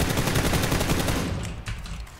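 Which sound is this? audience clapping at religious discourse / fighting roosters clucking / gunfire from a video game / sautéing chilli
gunfire from a video game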